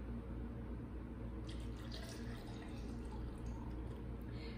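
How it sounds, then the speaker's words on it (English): Cold water poured into a matcha shaker, a quiet continuous trickle and splash heard close but faint over a low background hum. "And now I'm just gonna add cold water."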